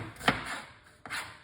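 A knife chops white onion on a board: one crisp, close chop followed by a softer scraping stroke, quiet and without talk.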